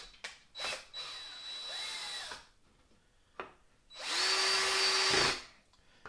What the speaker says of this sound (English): I'm going to screw the 2 screws in the end here